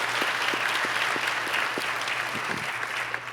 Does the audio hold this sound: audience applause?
yes